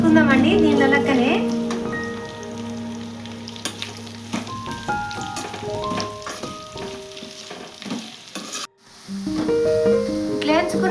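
Slices of bitter gourd fry in hot oil with a constant crackling sizzle, joined by stirring and clinks, while someone talks over the cooking.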